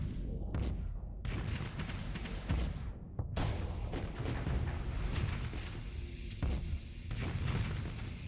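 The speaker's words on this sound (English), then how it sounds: "Oh, these are the missiles." Missiles launching and detonating in the space combat game Starsector, a dense barrage of booms and crashing blasts, several sharp hits and rumbling bursts over eight seconds with brief lulls between.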